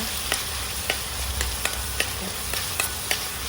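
Ground masala paste frying in hot oil, a dense continuous sizzle with a spoon scraping and stirring the pan in regular strokes, close and loud.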